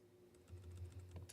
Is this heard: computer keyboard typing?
yes